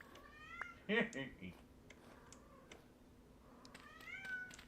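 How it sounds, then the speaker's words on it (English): Cat meowing and yowling in a video game, a drawn-out wavering cry followed by sharper meows, moderately quiet, with a person talking over parts of it. "Of course, she'll yowl like that even when she's not in season."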